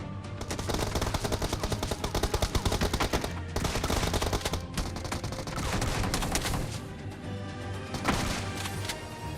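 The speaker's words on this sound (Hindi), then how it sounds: "तभी एक बंदा हमारे पे गोलियां चलाना शुरू कर देता है" Rapid bursts of loud automatic gunfire in the video game BGMI, repeated volleys with short gaps, dense and close, with game sound effects.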